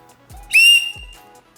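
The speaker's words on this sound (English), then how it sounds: "So you're gonna blow that whistle if you need help, right?" A single sharp, shrill blast from a survival-kit emergency whistle, loud and close, lasting a fraction of a second.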